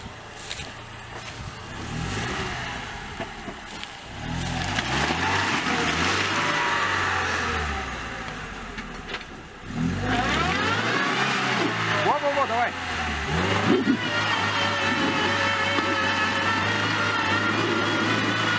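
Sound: off-road car engine revving stuck in swamp

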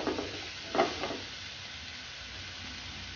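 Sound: spring roll filling with spices stir-fried on high flame

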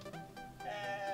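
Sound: sheep bleating in video game

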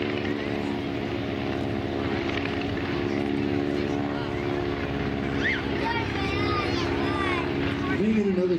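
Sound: Stearman biplane flying overhead

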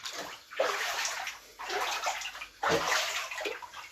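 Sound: floodwater sloshing inside a flooded house

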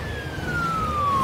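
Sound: ambulance siren in the video game SimCity

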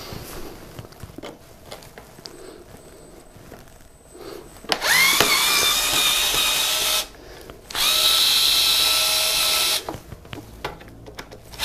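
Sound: power tool removing Phillips screws from motorbike cover

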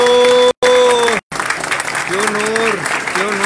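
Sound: audience applause

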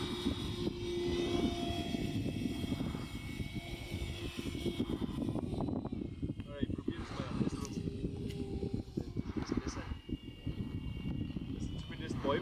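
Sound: RC model airplane motor with 3D-printed PLA propeller at full throttle

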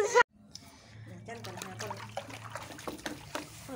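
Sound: water splashing while a child washes face

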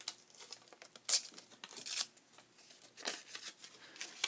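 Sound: ripping a lace doily

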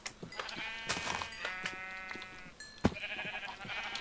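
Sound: sheep bleating in the video game Minecraft

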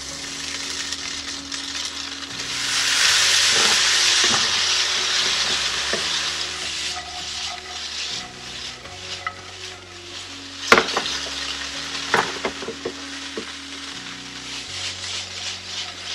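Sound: stirring couscous with sugar mixture in a pan

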